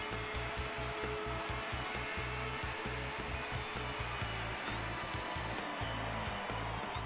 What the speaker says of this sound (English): Plunge the router and route the second mortise.